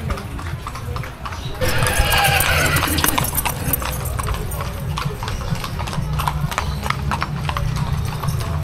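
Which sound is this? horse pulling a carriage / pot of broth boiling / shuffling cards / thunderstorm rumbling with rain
horse pulling a carriage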